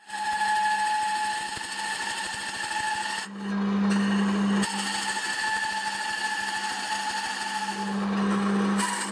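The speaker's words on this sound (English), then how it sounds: "I'm getting quite a lot of rubbing from those wide carbide teeth, but I'm also getting chips," Wide carbide-toothed cutter rubbing and chipping into a blank of exotic material on vintage machinery, a steady loud grinding whine with a sustained hum, briefly dipping mid-cut before resuming, no voices.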